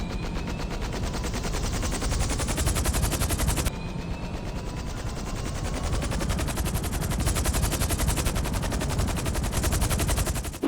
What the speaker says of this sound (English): The regular Cargobob is actually louder than the Cargobob Jetsam version.